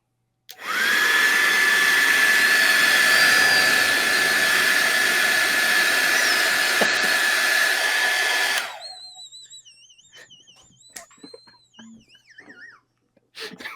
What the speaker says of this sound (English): Well, it's not a vacuum. It is a hairdryer.